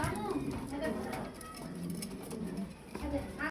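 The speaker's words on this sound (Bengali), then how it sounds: "দুইটা মাদি কবুতর" Pigeons, two females of a fancy breed offered for sale, coo softly and repeatedly beneath steady talking, with a busy background of other birds and voices.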